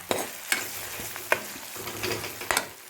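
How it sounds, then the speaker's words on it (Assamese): Chicken gravy is stirred and fried in a pan, with regular spatula scrapes and knocks repeating about every half second over a steady close sizzle, loud and alone. "আৰু এতিয়া ভালকৈ লৰাই দিছোঁ, গোটেইখিনি মিক্স আপ কৰিছোঁ।"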